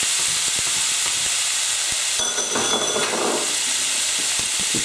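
Spiced lamb frying in oil in a pan gives a steady, loud sizzling hiss throughout, with scattered crackles and a short burst of stirring and scraping midway, no voices.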